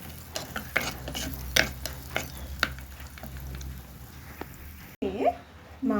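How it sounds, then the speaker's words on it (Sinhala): Soft scraping and clinks of a spoon stirring chili powder into shrimp curry in a pan, several irregular knocks against the metal over a low cooking hum, followed by a brief louder scrape near the end. "දැන් කලවම් කරනවා."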